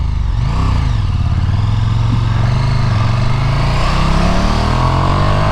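A KTM 1290 Super Duke R motorcycle engine revs steadily and loudly, its pitch climbing gradually as it accelerates, with a rumbling idle underneath throughout.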